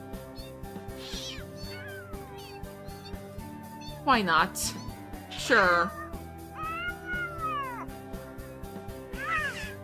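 Cats meow and yowl in The Sims 3 during a pounce, several sharp rising cries with one loud squall near the middle, heard over game music while a person talks briefly.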